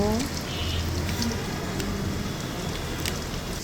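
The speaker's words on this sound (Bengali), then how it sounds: "প্রথমে কড়াইতে তেল দিব তারপরে পেঁয়াজ দিব" Onions sizzling in hot oil in a wok for chicken khichuri, a dense steady crackle and hiss filling the whole stretch, with brief faint tones near the start.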